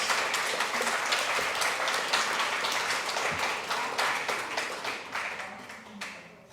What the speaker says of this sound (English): and now I'll take the applause.